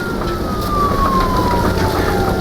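Police car siren from the video game Nobody Wants to Die, a loud wailing tone sliding slowly downward over continuous vehicle rumble, close and steady.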